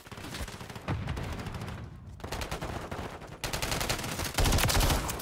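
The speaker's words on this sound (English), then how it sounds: "Taking effective fire!" Sustained automatic gunfire from a Call of Duty Modern Warfare III firefight on Xbox, with dense rapid bursts that swell louder toward the end and no talk.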